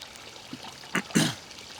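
Water trickling and dribbling from a backyard water feature, a soft continuous flow with a few brighter splashy bursts, close and fairly quiet with no talk.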